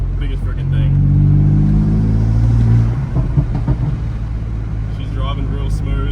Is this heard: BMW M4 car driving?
yes